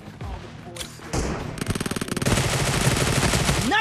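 Automatic gunfire in PUBG, a rapid burst of loud, close shots following a few single thumps, with game sounds continuing after.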